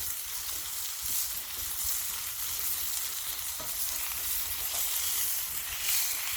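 Beef burgers sizzle and hiss steadily in a hot frying pan, with soft scrapes and taps as a spatula turns them over, a continuous close crackle with no talking.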